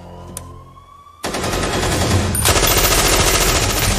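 Rapid bursts of automatic gunfire in a movie action scene, loud and sustained after a brief quiet lead-in, continuing in dense volleys to the end.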